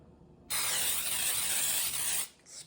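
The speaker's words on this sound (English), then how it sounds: "spray the pan" Cooking spray hisses onto a cake pan for a homemade carrot cake: one steady, close burst lasting about two seconds, then it stops, with no talking.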